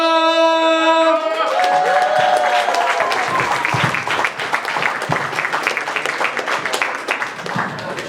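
An audience at a live Black History Month music jam session event in Toronto breaks into loud, sustained applause and cheering that fills the room, following a brief tonal musical sting at the start.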